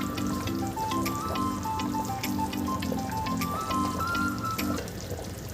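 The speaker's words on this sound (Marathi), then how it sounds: "इथे उकळी आलेली आहे." Traditional Maharashtrian masale bhat brought to a boil in a pot over a high gas flame gives a steady, soft bubbling fizz with light pops, partly under a background melody.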